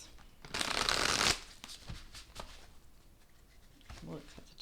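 A deck of tarot cards gets a quick, crisp riffle shuffle, followed by softer taps and slides as the deck is cut, heard close and quiet with faint talk around it.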